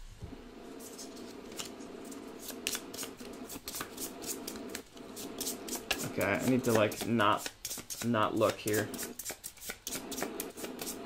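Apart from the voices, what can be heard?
shuffling a deck of cards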